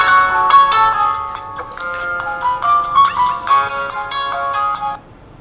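Ultra-thin credit card phone sized to fit in a wallet plays a bright electronic ringtone melody as it powers on, loud and close, ending abruptly.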